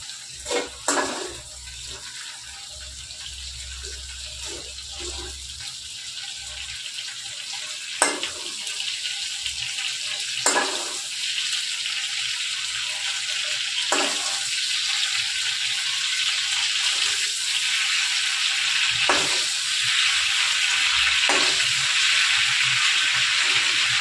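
Large chunks of cauliflower fry in hot oil with a loud, continuous sizzle and bubbling, broken by occasional sharp pops and clinks.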